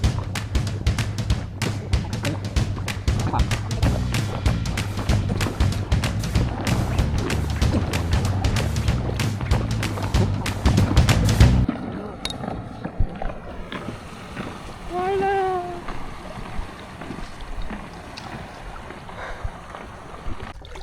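A rowboat paddled through the water at a botanical garden in Rayong, Thailand, with loud, steady wind buffeting the microphone for the first half, then quieter water and soft paddle sounds.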